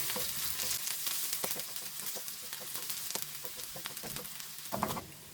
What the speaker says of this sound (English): take 2 tablespoons of oil. Add 2 cloves of garlic chopped. Fry for a minute.